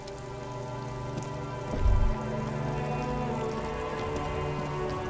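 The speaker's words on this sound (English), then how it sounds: "It's raining again." Steady rainfall in the video game Disco Elysium, a constant hiss of drops on surfaces with a brief low rumble partway through, no voices.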